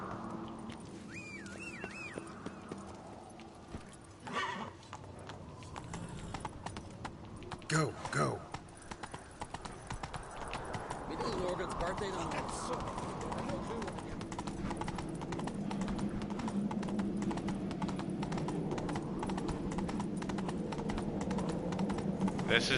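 Horse hooves galloping in The Witcher video game: a steady, rhythmic clip-clop runs throughout at close range, with someone briefly speaking over it.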